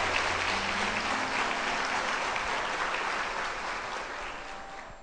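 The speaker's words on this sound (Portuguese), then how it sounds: "Isso, põe força no aplauso." Sustained applause from a congregation at a Catholic prayer group meeting in Potim, a dense, steady wash of clapping that fades slightly toward the end.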